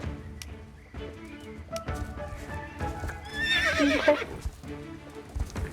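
Horse in the Star Stable video game cantering with rhythmic hoofbeats, then letting out a loud whinny midway, under game music and a person speaking briefly.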